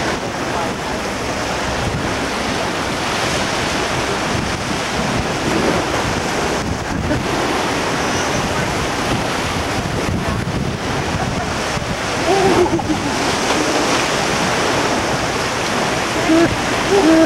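Choppy open water with waves surging and splashing steadily for over fifteen seconds, loud and close, with heavy wind buffeting the microphone throughout during a family cruise.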